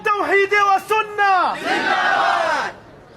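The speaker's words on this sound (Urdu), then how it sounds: "نعرے نہ لگاؤ" A crowd at a religious gathering in Pakistan shouts slogans in loud unison, a leader's call answered by massed voices in short rhythmic bursts, then a longer sustained roar that fades out.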